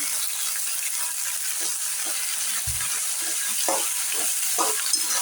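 Peas and cauliflower fry in a pan with a steady gentle sizzle, broken by scattered scraping and stirring sounds and a soft thud, fairly close and even throughout.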